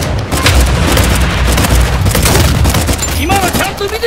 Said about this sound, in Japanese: グレネード、グレネードを投げないと。